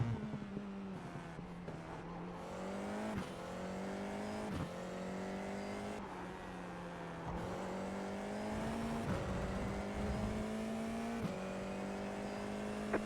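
A Formula 4 race car in iRacing accelerating hard, its engine note climbing steadily through gears with sharp drops at each shift, loud and close with a buzzing, harmonic-rich tone.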